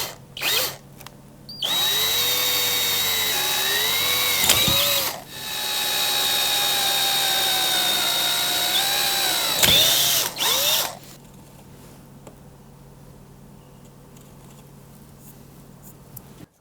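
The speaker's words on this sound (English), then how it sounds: "we're going to drill two more holes." A power drill bores two holes into a Pedaltrain Classic pedalboard to mount a CIOKS power supply, whining loudly in two sustained bursts with rising and falling pitch and a brief pause between, then trailing into low room hiss.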